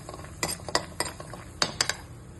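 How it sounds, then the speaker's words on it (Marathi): Dry coconut roasting and being stirred in a pan over a low gas flame, with a series of light scraping clinks from the utensil and a soft sizzle underneath. "खोबरं भाजते पहिलं, कमी गॅसवरच आहे, खोबरं लवकर लाल होतं."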